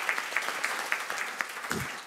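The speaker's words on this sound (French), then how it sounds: "on peut vous applaudir" An audience at a scientific meeting on air quality and health claps in a short burst of applause, steady and moderately loud, filling a large room.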